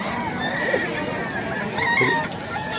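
Roosters crow and chickens cluck at a chicken fair, several birds calling at middle distance over a constant crowd murmur.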